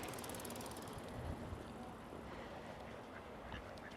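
Ducks quacking near the edge of a pond, a dense, busy chatter of calls over steady outdoor background noise, continuous throughout with no clear talk.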